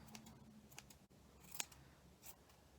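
Scissors trim the loose ends of a handmade wool pom pom, giving a few faint, crisp snips at irregular intervals over a quiet room background.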